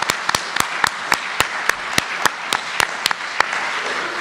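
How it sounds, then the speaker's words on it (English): A sparse, light round of applause from a few people, with distinct individual claps in an irregular rhythm, close and fairly loud, no talking. "we can give you a round of applause"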